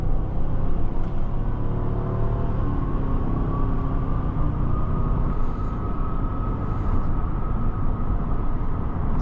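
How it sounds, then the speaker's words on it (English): A 2024 Cadillac Escalade Sport SUV accelerating, heard from inside the cabin. A loud, steady engine and road rumble drones evenly throughout without a break. "typical Escalade acceleration."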